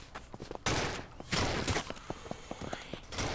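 Shotgun blasts from the video game Capsular come as a few sharp, fairly faint reports with some light clicks and steps between them.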